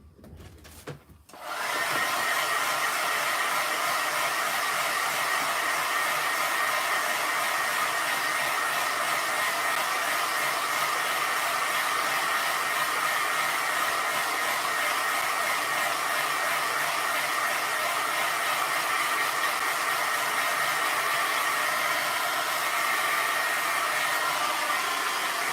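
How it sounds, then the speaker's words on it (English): A hair dryer switches on after a brief rustle and runs with a steady, loud whoosh that continues unbroken to the end, drying a watercolor painting. "it's gonna be another round of hairdryer drying time"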